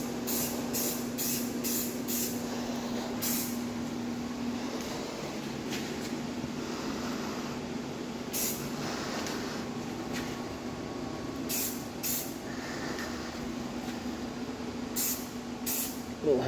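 An aerosol can sprays high heat flat black paint onto a titanium exhaust muffler in a series of short hissing bursts over a steady low hum.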